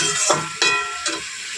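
Chicken curry sizzles in a pan as it is cooked down, with three strokes of stirring that each bring a burst of hissing frying, close and alone.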